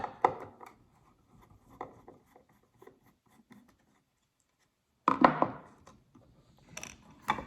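A screwdriver turns the last pickguard screw out of a Squier Telecaster, producing close, sparse ratcheting clicks and scrapes, a pause of near silence, then a louder burst of handling clatter.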